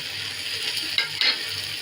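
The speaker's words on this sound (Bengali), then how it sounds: "একসাথে সবগুলো সুন্দর করে লাল লাল করে ভেজে নিব" Dried shrimp fry with onion and garlic in a pan, giving a soft continuous sizzle with two brief clinks of a utensil during stirring.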